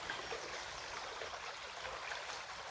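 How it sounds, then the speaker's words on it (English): Stream water flows steadily outdoors, a faint continuous hiss and babble with no talking. "That sacred water sound."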